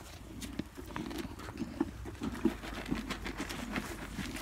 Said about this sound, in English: Tiny ponies.